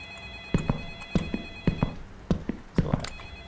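A telephone rings inside the video game Light Switch, sounding in paired electronic bursts repeated about four times in steady rhythm, fairly close and clear over a faint steady hum.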